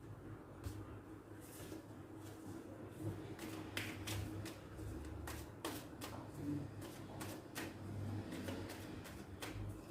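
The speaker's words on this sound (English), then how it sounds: "Let me shuffle the cards." Tarot cards being shuffled, a quiet run of crisp flicks and soft taps in irregular bursts, close and faint, with no talking.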